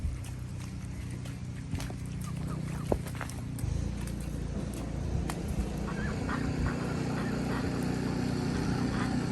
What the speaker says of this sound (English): The ducks and chickens are coming out.